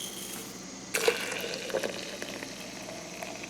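Water pours steadily into a coffee maker, starting with a sudden rush and continuing as a faint, even splashing fill.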